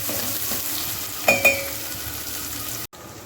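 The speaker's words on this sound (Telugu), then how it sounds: "కొంచెం ఆనియన్స్ ఫ్రై అయ్యేదాకా మిక్స్ చేయాలా?" Onions frying in a pan for chicken curry, stirred with a spoon: a steady sizzle runs throughout, with two louder scraping stirs near the middle and a brief drop out just before the end.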